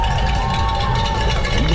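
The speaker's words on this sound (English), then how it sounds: "Students cheering, it's kind of fun." Students line the finishing stretch of the Unbound 200 gravel bike race and cheer and whoop as riders pass, a dense, steady crowd roar with whistles and a faint cowbell clank.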